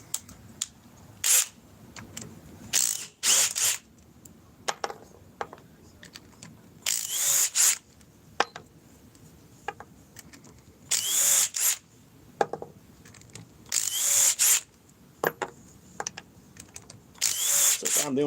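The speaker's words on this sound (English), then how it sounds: "let's remove them with my trusty DeWalt XR DCF" DeWalt XR DCF860 impact driver backing out screws in repeated short, loud bursts of rattling hammering, separated by quiet pauses and small handling clicks.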